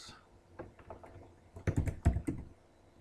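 Keys on a computer keyboard are tapped in a short burst while coding, starting with a few light scattered presses and building to a quicker run of firmer, closer clicks, with no talking over them.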